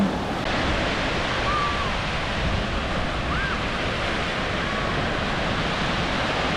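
Ocean waves wash steadily onto Miami's South Beach in Florida. The surf gives a continuous loud roar mixed with wind buffeting the microphone.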